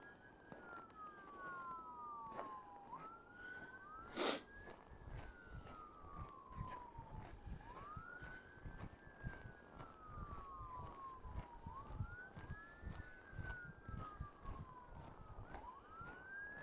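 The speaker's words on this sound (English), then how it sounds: "Sirens are often a thing you hear in the distance." Distant sirens wail in repeating rising and falling sweeps across an outdoor walk along a cleared path, steady and moderately faint with a brief louder burst near the middle.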